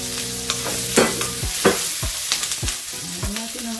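Tofu stirred into a pan of browned onions while frying, a steady loud sizzle with scraping strokes of a spatula and clinks against the pan, close up and with no talking.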